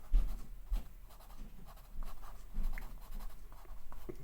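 Pencil shading on paper during an art drawing session, soft scratchy strokes in short uneven bursts, close and quiet, with brief pauses between passes.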